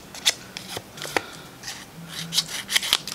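Short crisp snipping and rubbing sounds, several quick cuts close up and fairly faint, with no talking.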